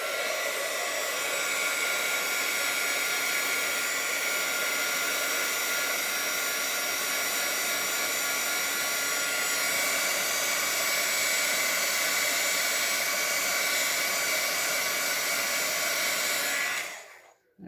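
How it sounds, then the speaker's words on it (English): A handheld heat tool blows steadily over stamped ink on a paper card, a loud, even whooshing roar that holds for the whole stretch and cuts off abruptly at the end. "I'm just going to take my heat tool and heat that up a little bit"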